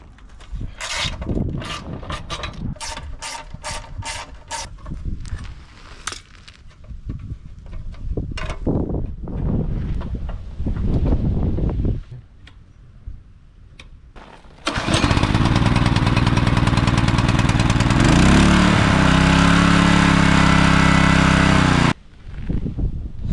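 Small gasoline engine on pond-digging equipment started with a pull cord after the gas was drained and the carburetor checked; several rapid pulls rattle, then the engine catches and runs loudly and steadily for several seconds before cutting off.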